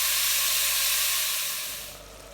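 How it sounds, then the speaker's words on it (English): Lamb mince sizzles loudly and steadily as it browns in a pan, a dense close hiss that eases off slightly toward the end, with no talking. "break it up as it cooks and browns off"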